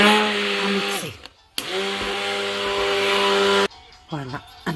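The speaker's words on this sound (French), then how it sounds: "Et je vais continuer à mixer" An electric kitchen blender mixes egg-free dough with a loud, steady motor whine, cutting out briefly and restarting, then a short stop and uneven revving at the end.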